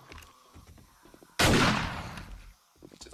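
A single loud, sharp gunshot in the video game 7 Days to Die bursts out and decays over a second, preceded and followed by quiet, low murmuring voices.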